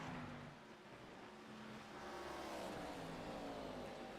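Race cars in an American Sim Racing Club Sportsman Series sim racing game accelerate through the esses, engines climbing in pitch through successive gear changes, a faint layered whine of several cars together.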